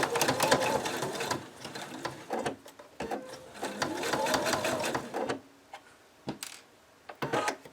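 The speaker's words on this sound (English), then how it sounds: "Start sewing at the top and sew all the way down to the corner of the mouth." Cockatiel plushie beak seam being stitched on a sewing machine, the motor running in steady bursts with brief pauses between runs and a few short taps at the end.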